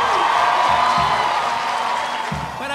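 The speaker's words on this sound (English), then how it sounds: "we applaud you" Audience applause at a graduation ceremony, a steady dense wash of clapping from a large crowd with occasional low thumps, sustained at even loudness throughout.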